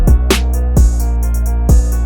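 A poorly mixed rap beat, muddy and lacking punch, with heavy booming low end, dull kick hits about every half second and crisp hi-hat ticks above; dense and continuous, no voices.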